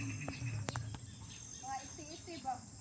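Birds calling outdoors at a rooftop garden with tomato plants; a handful of short, faint chirps come a little way off, mixed with people talking and a steady background hum.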